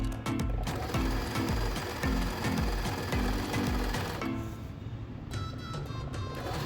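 Sewing machine stitching along fabric while an old garment is reworked into a home organizer, a steady rapid mechanical chatter that runs loud and close throughout with brief shifts in pace.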